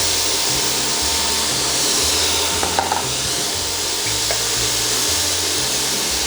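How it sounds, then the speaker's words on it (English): Onions cooking in olive oil in a pan, a steady, loud sizzle and hiss that holds evenly throughout, with no voices. "Time to cook up some onions."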